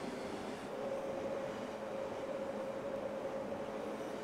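A train in the Cities: Skylines city-building game rolls past at a steady, moderate level, with rumbling wheels and a faint tonal hum throughout.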